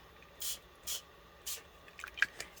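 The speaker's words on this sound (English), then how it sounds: "Let's start out with this spray." Three quick hissing spritzes from a spray bottle, evenly spaced, followed by faint small clicks and taps.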